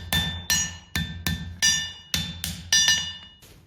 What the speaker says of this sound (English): So I can wiggle it back and forth, and then tap everything into position.